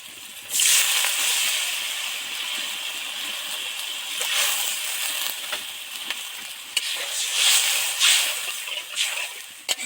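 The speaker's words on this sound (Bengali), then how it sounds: "মশলা থেকে তেল ছেড়ে গেছে এবার এর মধ্যে জল দিয়ে দেব" Water poured into hot fried spice masala for a Bengali mourala fish and egg curry bursts into a loud hiss, then keeps sizzling and bubbling up close with occasional stirring.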